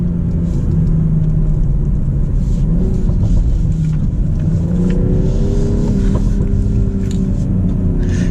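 A BMW M340i xDrive car being driven through turns, with a steady, loud engine rumble and rising and falling revs heard from inside the cabin, continuous and without talking.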